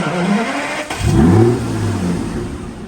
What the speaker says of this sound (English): it's got a lovely startup sound, just like the V12 and the S600, but a lot louder and a lot more exotic sounding